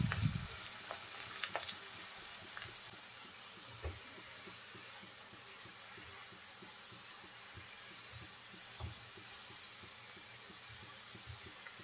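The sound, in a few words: chopped onions frying in oil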